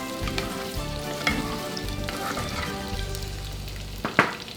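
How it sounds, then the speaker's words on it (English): Chicken and potatoes stir frying in a pot: a steady close sizzle with intermittent scraping and stirring clatter, plus a sharper knock near the end, with no talking. "We'll continue stir frying."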